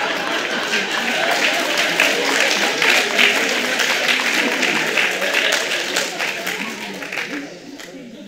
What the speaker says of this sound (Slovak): Protože ste tleskaví.